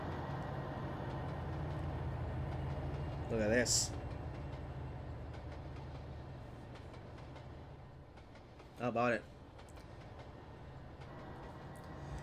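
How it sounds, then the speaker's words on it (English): A freight train rolls through Cajon Pass in Trainz Simulator 2 as a steady, continuous rumble with wagon noise, while someone talks over it and two brief horn-like bursts stand out. "let's do a quick flyby video just to show you more of the train here"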